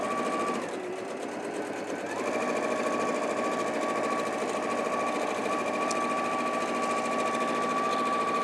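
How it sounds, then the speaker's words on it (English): An Elna 780+ sewing machine stitches three lines, a steady close motor hum with a fast needle chatter that pauses briefly between runs, heard alone without talk. "I'm just going to sew three lines here and see how we get on"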